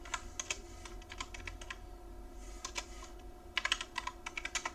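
A computer keyboard clicks as an IP address for a Raspberry Pi is typed, quick close bursts of keystrokes with a short pause midway and a faster flurry near the end.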